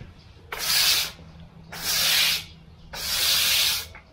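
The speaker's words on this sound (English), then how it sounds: "You can use a soft bristle broom." A soft bristle push broom sweeps across a freshly sprayed surface in three steady strokes, each a broad, close brushing hiss separated by short pauses.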